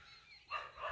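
A dog barks somewhere behind a house, its voice carrying indoors. It comes as a faint, distant burst in the second half, and no one speaks.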